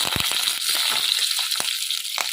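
Fenugreek seeds, dried chillies and curry leaves frying in hot oil for a radish sambar, giving a steady close-up sizzle with crackling and scattered sharp pops.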